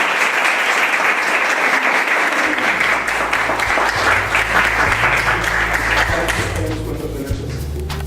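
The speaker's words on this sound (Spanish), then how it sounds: "les pido un aplauso." Audience applause at a neuroscience symposium, a sustained burst of clapping from a crowd that stays dense and even, with a low hum and faint voices underneath as it starts to taper at the end.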